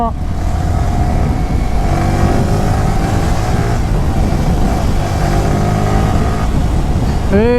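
A Yamaha R15 V3 motorcycle engine drones loud and close under steady acceleration, with the pitch rising through the gears and a sharp rev at the end. Wind noise runs underneath.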